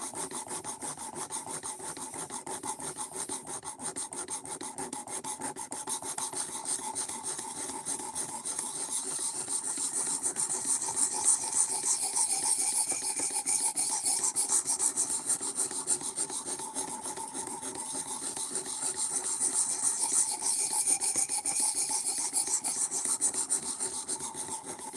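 Steel blade of an Albatross FK055 knife being filed to raise a burr, a continuous close rasping of rapid back-and-forth strokes that holds steady for the whole stretch without any voices.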